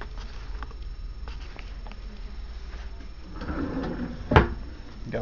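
A drawer on a solid wood Thomasville TV armoire slides and bumps shut with one sharp knock near the end, after quiet faint rustling.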